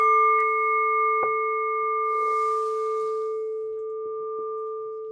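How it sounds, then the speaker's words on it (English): A single bell strike rings out clear and sustained, its pure tone slowly fading over several seconds in a quiet room. "and by the sound of the bell"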